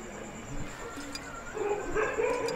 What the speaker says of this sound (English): Dogs prowl the village streets.